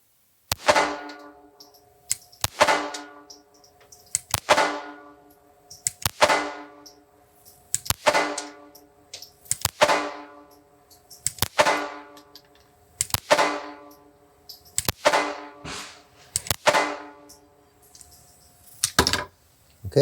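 A Ruger LCP II .22LR pistol fires shot after shot at an outdoor range, each crack sharp and evenly spaced, roughly ten rounds in a steady rhythm.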